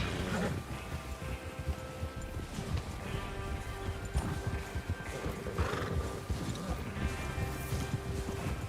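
Horses in the video game Red Dead Redemption 2 whinny and snort at a moderate distance while hooves clop irregularly, with a faint ambient bed underneath.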